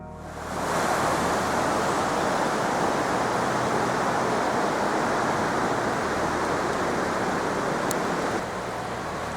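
A river rushes beside a mountain trail through a gorge in Asturias' Redes Natural Park. The flowing water gives a loud, constant roaring hiss after a quick swell at the start.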